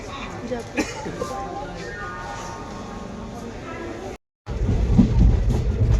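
Steady rumble and rhythmic rattle inside a moving train carriage, with a brief dropout before the noise returns louder.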